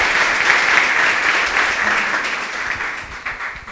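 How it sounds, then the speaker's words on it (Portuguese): Loud, sustained clapping from a church congregation during a worship service, a dense wash of hands filling the whole stretch without letting up. "Louve a Deus com suas palmas bem forte"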